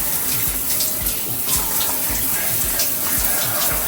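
Water runs steadily from a tap into a bath during washing, a constant splashing gush with faint irregular knocks beneath it.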